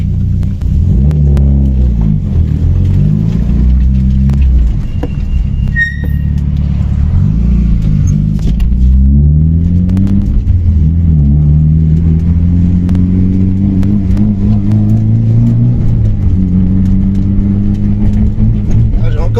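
A Mitsubishi Lancer Evolution 9 with about 450 horsepower, heard from inside, its engine rising and falling through repeated revs and gear changes as it pulls away, with people talking over the steady rumble.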